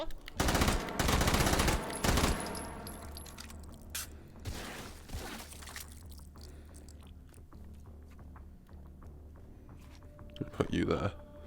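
A K50M submachine gun fires in a video game, with loud rapid automatic bursts close up and a later short burst, while a person talks over the gameplay.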